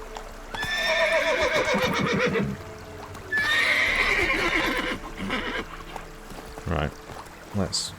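Roach, a horse in The Witcher 3, gallops with rhythmic hoof clops and lets out two loud whinnies a few seconds apart, followed by scattered thumps.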